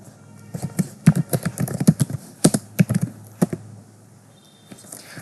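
Fast bursts of typing on a computer keyboard while entering Python code in VS Code, crisp close key clacks in irregular clusters with a few heavier strokes, then a pause.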